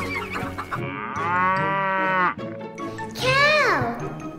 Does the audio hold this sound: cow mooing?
yes